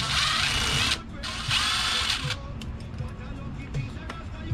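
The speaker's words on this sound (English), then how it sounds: "I'm gonna take these out. Just these 4 screws right here." A power tool whirs in two steady bursts while backing out screws from the rear differential of an ARRMA Kraton RC truck, then brief clicks and handling noises follow at close range.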